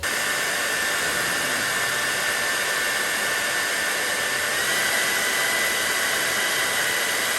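A Panasonic Nanocare EH-NA0G hair dryer blows on turbo mode, a loud steady whoosh with a high whine, swelling slightly louder partway through.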